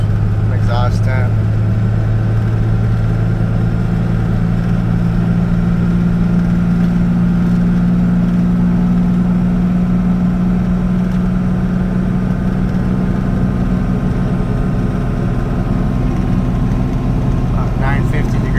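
A 12-valve Cummins diesel truck engine towing about 22,000 pounds on flat ground, a loud steady drone with a low hum, gears being shifted under load, continuous and close throughout.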